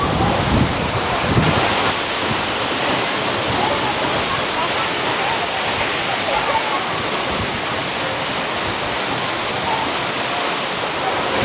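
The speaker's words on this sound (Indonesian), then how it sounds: "Jadi seperti ini kalau dari bawah air terjun." Curug Lawe waterfall heard from directly below, a loud, steady roar of falling water and spray that fills the whole clip with dense, unbroken noise and a few gusty swells near the start.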